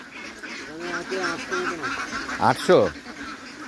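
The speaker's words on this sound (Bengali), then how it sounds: "হাঁসগুলো কত হাঁস আছে মোটামুটি এখানে?" Ducks on a duck farm quack nearby, scattered nasal calls building to a louder burst near the end, as people talk over them.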